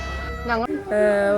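A house cat, drawn by the smell of biryani cooked over a wood fire, lets out two drawn-out meows, a shorter one followed by a longer, steadier one, close and clear.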